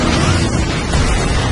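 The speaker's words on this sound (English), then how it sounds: "Lord Megatron, the ship's reactor core is failing. Explosion imminent." A failing starship reactor core explodes in the Transformers: War for Cybertron game as a dense, continuous roar of rumbling blast noise, loud and sustained across the whole moment.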